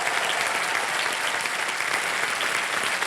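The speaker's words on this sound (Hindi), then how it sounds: "तालियां बजते रहे सोनल जी के लिए।" Sustained, even applause from the KBC quiz show studio audience for contestant Sonal, a thick continuous patter of many hands at steady loudness, with no talking over it.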